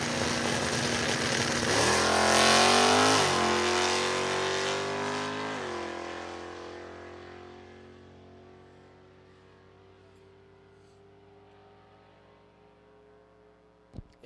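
A Maryland-based Camaro in Stock and Super Stock drag racing at the Class Racer Nationals roars off the line and fades as it runs down the track, the engine pitch climbing through gear changes before the sound tails away into the distance.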